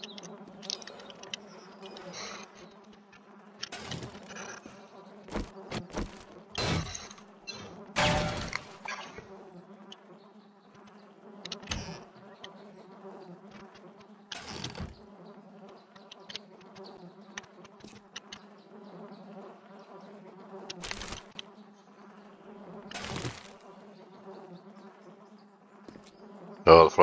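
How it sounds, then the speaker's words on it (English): Flies buzz steadily around corpses in the video game 7 Days to Die, a soft continuous drone. Sharp clicks and thumps break in at irregular intervals. "Oh, the flies are buzzing around the corpses."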